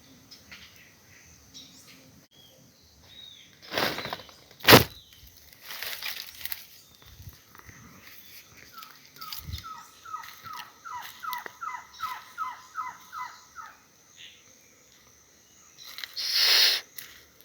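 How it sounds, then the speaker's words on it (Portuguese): Birds singing outdoors in a natural setting, with a rapid run of repeated chirps in the middle among scattered calls, plus several loud broadband bursts of handling or rustling noise near the start and end. "Só escutando o canto da natureza, os pássaros e as aves, o ambiente natural."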